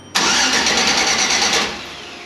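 A car engine cranks and catches right after its battery cable is reconnected, jumping straight to a loud, steady running roar for about a second and a half before easing down to a quieter idle.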